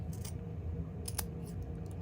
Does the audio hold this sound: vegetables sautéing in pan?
no